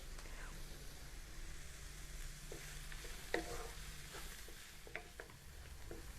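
Mixed vegetables for cutlets sautéing in a pan, a quiet, steady sizzle with occasional soft clinks and scrapes of stirring, close but low in level.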